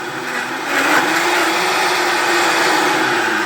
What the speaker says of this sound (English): Gonna turn that main switch on the bottom of the Vitamix.